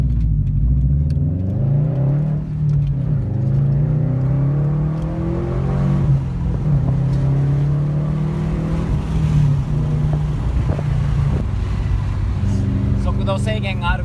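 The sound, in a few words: Subaru STI engine revving up to 7000 rpm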